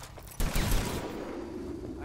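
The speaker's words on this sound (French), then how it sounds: "Un coup de feu." A single gunshot in the video game Hitman: Absolution cracks sharply and loudly against a low, steady ambient background, then the sound settles back into a continuous murmur.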